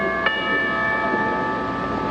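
A chime sound effect in a comedy TV episode rings once, a bright struck tone with several sustained metallic overtones that fade slowly over two seconds, heard alone.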